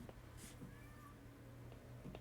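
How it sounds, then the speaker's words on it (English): A cat gives a single unhappy meow, fairly faint beneath a steady room hum, during a tabletop game session. "I hear Kitty."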